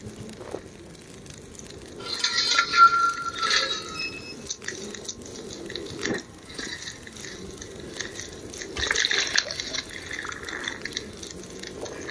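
Water drinking in the survival video game The Long Dark, heard as quiet liquid sloshing and dripping sounds in short bursts, with a louder swallowing-like flurry at about two seconds and another near nine seconds, over a faint ambient background.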